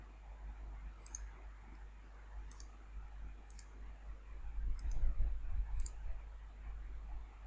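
Computer mouse clicking, heard as five sharp, evenly spaced clicks over a steady low hum, close and fairly quiet.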